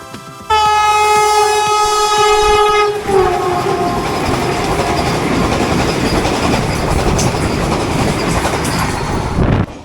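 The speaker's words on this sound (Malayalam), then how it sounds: "തുരങ്കങ്ങൾ കയറിയും ഇറങ്ങിയും പായുന്ന ട്രെയിൻ" Netravati Express passenger train, a Mumbai to Kerala service, sounds a long sustained horn and then rumbles along the track with steady loud clatter, running through tunnels.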